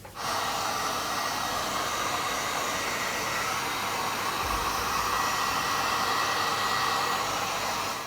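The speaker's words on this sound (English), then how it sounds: "A little blast of my heat gun." A heat gun blows steadily over puddles of metallic acrylic paint, a constant loud airy whoosh and hiss that runs unbroken throughout.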